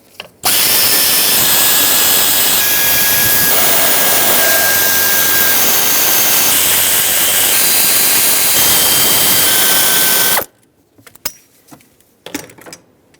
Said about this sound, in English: Now let's remove the 8mm valve cover bolts.